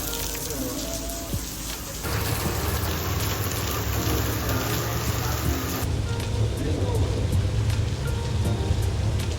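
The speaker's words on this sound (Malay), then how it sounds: "It's raining." Heavy rain pours steadily during Stage 1 of the Tour de Langkawi cycling race, a dense, loud, unbroken hiss that swells slightly after the first couple of seconds.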